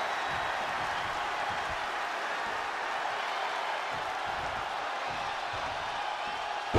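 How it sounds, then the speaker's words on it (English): A wrestling video game's arena crowd roars in a dense, continuous wash of cheering and applause at a moderate level, steady throughout with no clear break. "The sound of this crowd is deafening"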